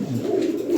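A Lahori Sirazi pigeon, a large high-quality bird, gives a short, close, soft throaty coo, heard alone.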